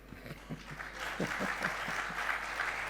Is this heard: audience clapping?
yes